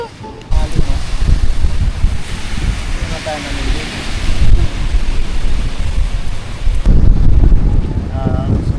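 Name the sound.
strong wind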